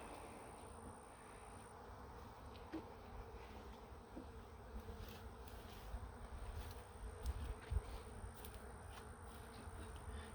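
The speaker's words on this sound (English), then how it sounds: "Not too many bees down in this one." Honey bees in an opened top-bar hive make a soft, steady buzz that holds low throughout, with a few brief louder swells as insects pass close.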